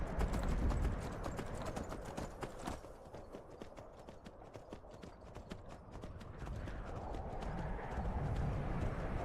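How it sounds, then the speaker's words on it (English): Horse hooves clip-clop steadily in the Skyrim video game, a dense rhythmic run of hoofbeats over a continuous outdoor ambience, with a brief whinny near the start. "Horses."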